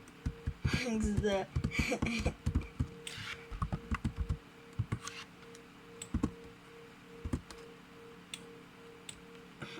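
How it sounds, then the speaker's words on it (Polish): Rapid, forceful keyboard typing in irregular bursts of sharp clacks, close by, with a faint murmur of talk in the background. "rozwala klawiaturę"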